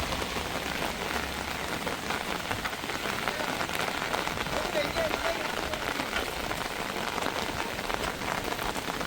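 Heavy storm rain in Jaffna pours steadily onto surfaces, a dense, constant wash of drops and splatter with no letup, loud and close throughout.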